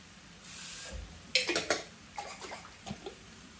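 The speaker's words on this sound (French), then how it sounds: "Je rajoute un fond d'eau pour récupérer le reste." A splash of water is poured into a pan of tomato sauce and meat, a short rush followed by a few soft sloshing and scraping bursts close by.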